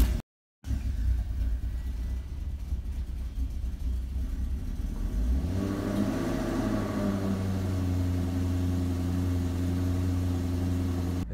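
A Maserati car engine starts and rumbles low and steady, then revs up about halfway through and holds a louder, higher droning idle, close by with no talking.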